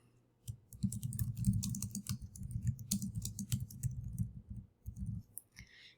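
Dense clicking and tapping at a computer, like a mouse and keyboard in use while setting up a quiz in Google Forms, with rapid close clicks in clusters and brief pauses, and no voices.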